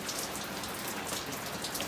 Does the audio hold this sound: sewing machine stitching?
no